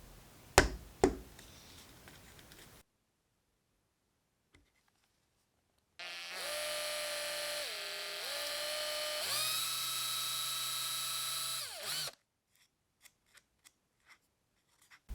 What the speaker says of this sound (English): I marked out and drilled some 1/8 inch holes for some tiny magnets to hold the lid closed.